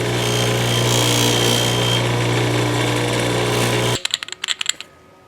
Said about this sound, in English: I'm gonna go around with a polishing wheel and get rid of that.